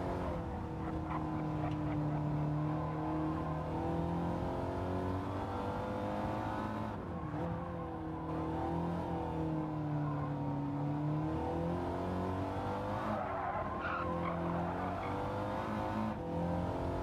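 Audi TT Gr.4 race cars bunching up at the start of a Gran Turismo 7 online lobby race, with several engines droning and revving together steadily and shifting pitch as they accelerate, and no talk.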